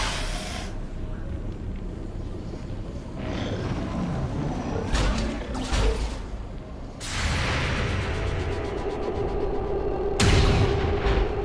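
A truck blows up in the video game XCOM 2, sharp bursts of explosion and gunfire-like booms breaking out at several points over a constant rumbling background, with no speech.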